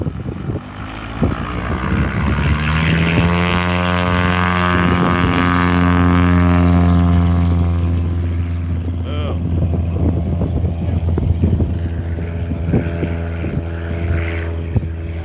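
Aviat Husky A1 propeller aircraft engine droning loud and close with a steady harmonic roar that rises and then eases, wind buffeting the microphone, voices faintly under it.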